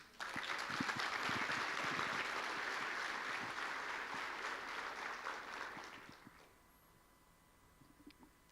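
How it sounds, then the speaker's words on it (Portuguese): A congregation claps during a church sermon, a dense sustained round of applause that holds steady for about six seconds and then fades to scattered claps and quiet. "Uma salva de palmas ao Senhor"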